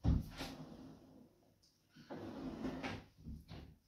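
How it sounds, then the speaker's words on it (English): A push-to-open drawer in a wardrobe with an integrated work station slides open, with a soft thump at the start, then a smooth sliding rustle and a few light knocks, close and quiet with no voices. "Interior with the drawer also pushed open."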